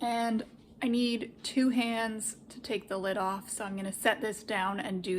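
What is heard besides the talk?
No everyday noise stands out behind the speech.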